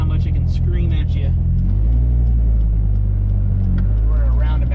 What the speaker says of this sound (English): It's just how vocal this car is,